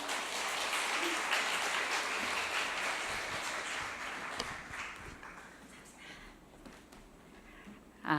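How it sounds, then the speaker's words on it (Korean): A church congregation applauds in welcome as a woman pastor is introduced to speak, a dense roomful of clapping that holds steady and then slowly thins and fades. "환영의 박수로 맞이해 주십시오."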